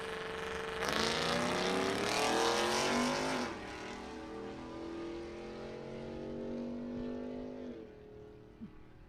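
Drag racing cars, including a 1996 Ford Mustang, launch and run down the strip: a loud engine roar bursts in, holds, then falls and fades into the distance, followed by a quieter second pass tapering off.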